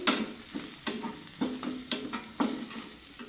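Capsicum fries in a pan, with steady sizzling under repeated stirring strokes that scrape and clack roughly every half second, close and moderately loud, no voices.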